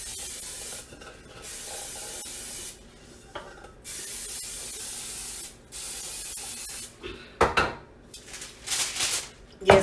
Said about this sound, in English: I spray my entire pan,